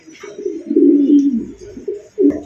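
White Pakistani Siraji pigeons coo close by in a low, warbling murmur, a drawn-out throaty coo swelling in the middle and a shorter coo at the end.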